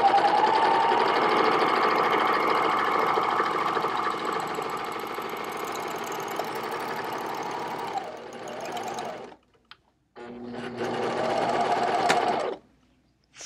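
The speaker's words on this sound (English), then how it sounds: "Anytime you want to do ruffling, so easy on your Serger." An air thread serger runs steadily while ruffling fabric, a loud continuous mechanical whir for about nine seconds, then a brief pause and a second shorter burst of stitching.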